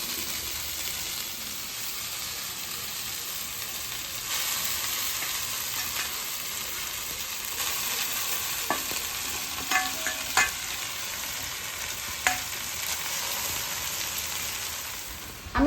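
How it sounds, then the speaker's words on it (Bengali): Chow mein noodles stir-fried in a wok with fried onion and tomato, a steady close sizzle with scraping stir strokes and a few sharp clanks of the spatula against the pan, no talking. "এবার আমি চাউমিনটাকে কড়াইতে দিয়ে দিলাম"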